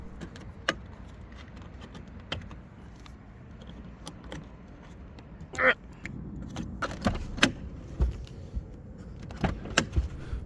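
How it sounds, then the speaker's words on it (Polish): Rear seat backrests being folded down in a 2025 Skoda Superb Combi estate, a quiet cabin with scattered clicks and latch snaps, then a cluster of thumps and rustles as the backrests drop, close and fairly faint. "z tego poziomu możemy położyć oparcia tylnej kanapy"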